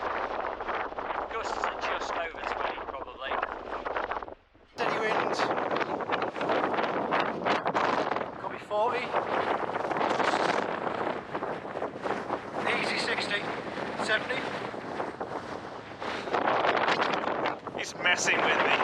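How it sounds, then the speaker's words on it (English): Steady wind on a mountain, gusting just over 20, roars and buffets continuously against the microphone, loud throughout, with voices talking underneath. "Steady wind."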